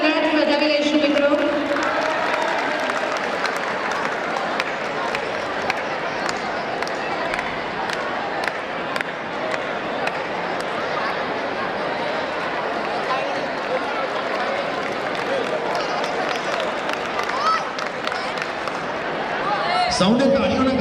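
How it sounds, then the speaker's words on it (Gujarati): An audience at a community event applauds through a long, steady stretch of crowd clapping, with voices mixed in. "તાળીઓના ગણગણાટથી વધાવી લઈશું મિત્રો."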